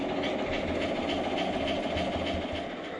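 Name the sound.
model toy train running on track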